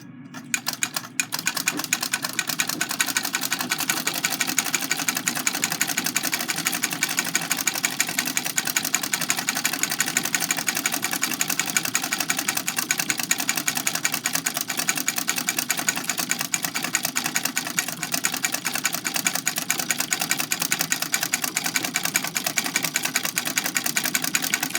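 A treadle-operated Singer 127 lock-stitch sewing machine runs continuously at a steady pace after a brief start. It makes a close, loud, even whirring with a fast mechanical rattle throughout.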